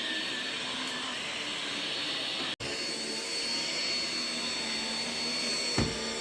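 A Ryobi ONE+ 18V cordless stick vacuum cleaner runs with a steady, loud whine and airy roar, briefly cutting out once before resuming, working over a rough, bristly welcome mat.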